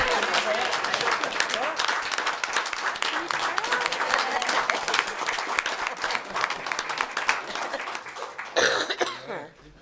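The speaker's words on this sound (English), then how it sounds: "we're gonna clap with you." A crowd at a city council meeting in Bolivar claps together for several seconds, a dense continuous patter of hands with a few coughs mixed in, tapering off near the end.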